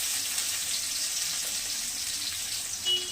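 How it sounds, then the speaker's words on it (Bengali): Chopped onions frying in plenty of hot oil with chillies in a pan, a steady hissing sizzle that runs unbroken and fairly quiet throughout, with no voices. "পেঁয়াজ কেটে রেখেছিলাম দিয়ে দিলাম ভাজতে।"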